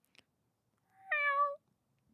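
A person imitates a cat with a single drawn-out vocal meow of about half a second, close and clear against near silence.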